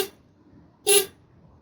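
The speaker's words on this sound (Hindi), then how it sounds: "अब एक बार इसका आप हॉर्न सुन लो" A single short, bright motorcycle horn beep from a Husqvarna Svartpilen sounds after a brief quiet moment, close and clear.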